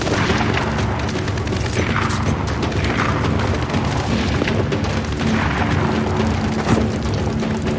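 Dense, continuous gunfire and heavy booming explosions from a firefight in the video game Splinter Cell: Blacklist, loud and sustained with no pauses.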